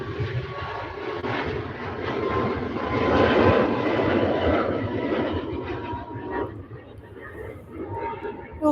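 An aircraft taxiing at Manchester Airport, a steady rumbling engine drone that swells in the middle and fades slightly toward the end, heard at moderate distance with wind and outdoor background.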